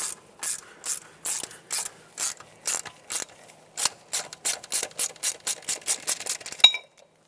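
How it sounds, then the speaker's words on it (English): A ratchet with a 10mm socket unbolts an ABS wheel speed sensor from the knuckle of a 2014–2021 Mazda 6, giving close, crisp bursts of clicking repeated in quick rhythmic strokes, with no talking. "Use a 10mm socket to unbolt the sensor from the knuckle."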